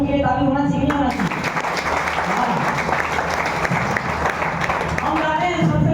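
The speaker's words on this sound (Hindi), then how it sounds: "ऐसे गुरु के लिए ताली होना चाहिए, होना चाहिए" Sustained applause from a large audience at a motivational business talk, dense and loud clapping filling most of the span, with a voice speaking at the start and the end.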